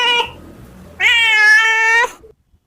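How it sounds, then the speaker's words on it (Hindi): A domestic cat gives two clear meows, a short one followed after a pause by a longer, loud drawn-out cry, close by with no talk over them. "ये रही प्यारी सी बिल्ली, कभी खेलती है कभी सोती है।"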